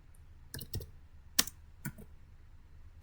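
Quick bursts of computer keyboard keystrokes while an IP address is entered, a few clustered clicks separated by short pauses, close and clear in a quiet room.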